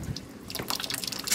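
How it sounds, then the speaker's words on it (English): Water released by a pulled lever splashes and drips onto a small model water wheel, a quick patter of irregular droplets and trickles lasting barely over a second, close and fairly quiet. "The lever will be pulled, releasing water onto the water wheel."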